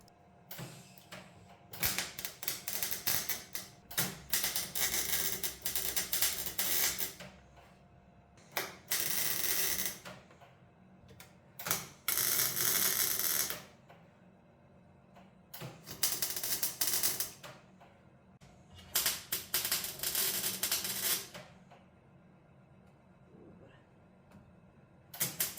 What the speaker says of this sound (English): And it's welding time.